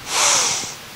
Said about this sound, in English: Sniff in a little extra.